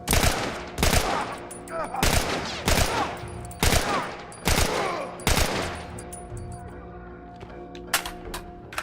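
Gunfire in The Last of Us rings out as a series of loud, sharp shots with reverberant tails, about eight bursts spaced irregularly over several seconds, then quieter ambience with faint tones.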